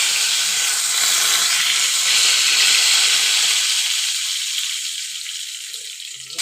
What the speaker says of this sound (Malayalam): ഒരു തവയിൽ കടുകിട്ട് വറുത്തു